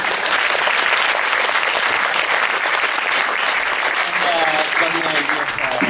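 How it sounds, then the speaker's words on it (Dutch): An audience at a literary café event applauds steadily and densely throughout, with a voice speaking over the clapping near the end. "Een groot applaus voor Carlijn die ons toch nog met alles heeft geholpen"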